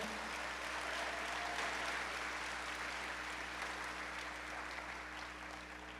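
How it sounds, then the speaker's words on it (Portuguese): A church congregation applauds during a Sunday service with a steady, even wash of clapping that sounds somewhat distant over a low electrical hum, tapering slightly at the end. "Pode aplaudir o Senhor."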